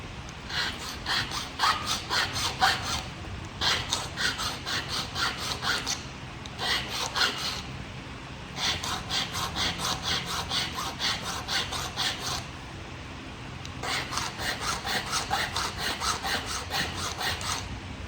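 A flintknapping tool is sharpened by abrading on a stone, with rapid rhythmic raspy strokes in long bursts separated by short pauses, close and steady, no talk.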